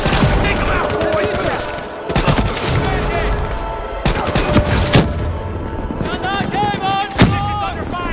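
Rapid machine gun fire from an enemy MG in a brick building in Call of Duty Black Ops 3, dense overlapping bursts of loud gunshots continuing throughout, with heavier booming shots and sharp cracks standing out at moments.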